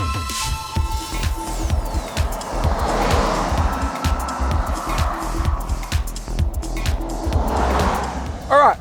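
A 2024 Volkswagen Touareg 170TDI large luxury SUV drives along a road, its steady engine and tyre roar sitting low and continuous with brief pulsing swells throughout, a voice talking intermittently over it.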